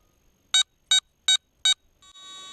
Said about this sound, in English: 4 beeps. Okay, that tells me I've got a full battery and I'm ready to rock and roll.